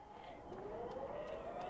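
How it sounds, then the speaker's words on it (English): Siren in the zombie survival video game The Day Before, a faint rising wail heard steadily over a low background hum, with no talking. "I didn't mean the zombie, I mean the siren."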